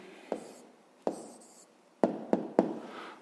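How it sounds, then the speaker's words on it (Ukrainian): A pen on paper writing down the answer to a 5th-grade math speed problem, quiet scratching broken by five distinct taps and strokes spread over a few seconds, no talking. "Записуємо відповідь."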